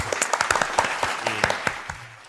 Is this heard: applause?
yes